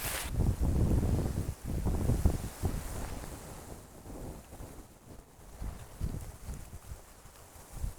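Wind buffets the microphone in loud, rumbling gusts that ease and return, with faint rustling underneath and no voices.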